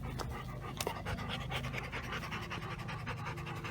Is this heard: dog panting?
yes